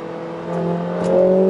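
A 2020 Mercedes A45 S AMG hatchback engine heard from inside the car as it accelerates, a steady loud drone whose pitch climbs gradually, with a brief gear-change blip partway through.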